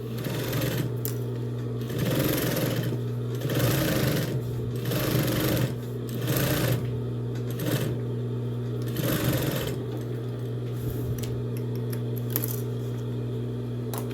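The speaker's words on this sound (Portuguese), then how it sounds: "A gente já vem aqui e já faz a costura com o retrocesso bem rente ao dentinho." A sewing machine stitches close along the teeth of a zipper on a fabric box-style pencil case, backstitching as it goes: a loud, steady mechanical whirr in repeated bursts with short pauses, and no talking.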